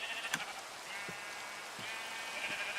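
Sheep bleating in a farming video game, several wavering bleats in a row at moderate volume over steady background ambience, with no talking.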